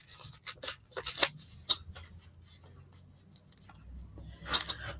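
Paper is cut with scissors while making a collage, several soft close snips and rustles at irregular intervals in a quiet room.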